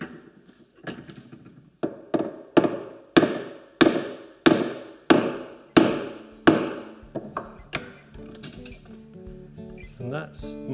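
A steel chisel tang is hammered into a wooden handle: about nine sharp, evenly spaced blows ring out loud and close, then a few lighter taps with some rustling at the end.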